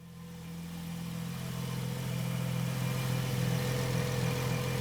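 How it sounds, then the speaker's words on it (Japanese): A Porsche 911 Type 997 Turbo S Cabriolet idles steadily, a low, even engine hum with a deep drone that swells slightly and then holds for about five seconds, with no talk. "エンジン、良好。"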